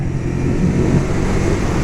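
A 2023 Ducati Scrambler 800 Next-Gen motorcycle engine pulls hard in sport mode, a loud, close, continuous growl of acceleration with no talk over it.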